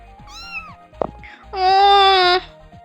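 A cartoonish cat from the video game Campus Chaos Sim gives a short meow, then a longer, louder drawn-out wailing meow, near and clear, with soft game sounds and a brief click between.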